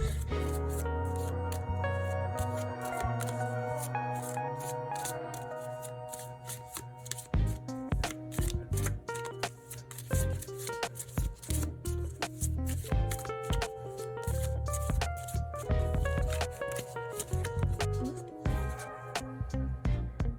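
Tarot cards being shuffled close up, with repeated riffling and soft tapping in uneven bursts, accompanied by gentle background music.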